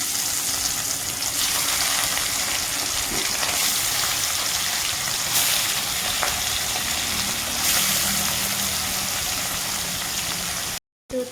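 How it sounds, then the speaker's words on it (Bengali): Rohu fish frying in hot oil in a wok, a steady broadband sizzling, loud and continuous throughout, with a brief cut near the end. "কড়াইতে তেল দিয়েছি তেলটা গরম হয়ে গেছে দিয়ে দেবো মাছ"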